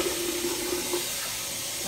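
Running water splashes steadily while a clay face mask is rinsed off, a continuous close hiss with a faint tonal trickle through the first part and no talking.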